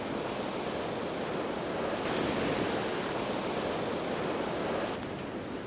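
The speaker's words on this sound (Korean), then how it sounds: "파도가 점점 세지고 있습니다." Continuous rushing surf of ocean waves meeting glacier meltwater on an Icelandic shore, a dense steady roar with a slight swell midway and some wind.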